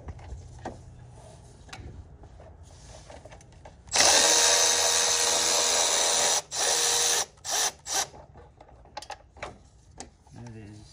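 A power tool whirs loudly on the bolts of the front timing cover of a Honda D17A engine, running steadily for a couple of seconds, then in several short bursts, with scattered workshop clatter around it.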